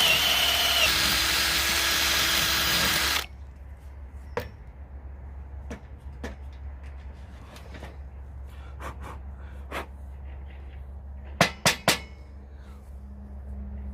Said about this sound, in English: Obviously it didn't take very long because I'm using a battery drill